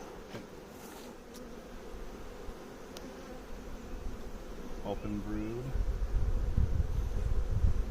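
Honey bees hum steadily around an open hive during a brood-frame inspection, a soft continuous drone under brief nearby talk, growing fuller and closer toward the end.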